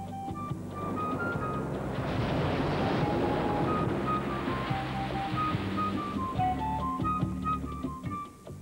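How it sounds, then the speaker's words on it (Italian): A gentle breeze on a Caribbean island shore makes a soft, steady rush of air, with faint surf and some tonal music-like sounds underneath throughout. "Oggi il vento è solo una tranquilla brezza"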